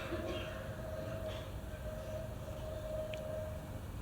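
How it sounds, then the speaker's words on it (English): A train crosses a bridge and whistles at a distance, a faint sustained whistle tone over a low continuous rumble, recorded during an outdoor discussion session in Rajghat in 1981. "When you hear that train crossing that bridge and whistling"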